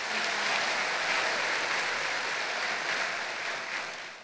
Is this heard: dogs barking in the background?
no